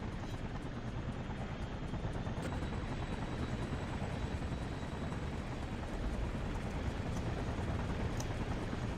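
Helicopter flying in the video game Infamous, a steady low rotor drone and whir that holds constant throughout, heard alone without talk.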